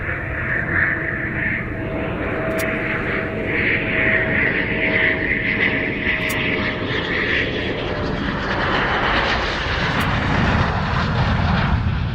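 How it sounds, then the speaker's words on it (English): A Eurofighter Typhoon jet coming in to land at an airfield passes low overhead, producing a loud, continuous roaring engine rumble with a broad whine that holds steady for the whole stretch. "I'm going to go quiet again as soon as I've found this aircraft coming into land, our Typhoon, which is just over that house."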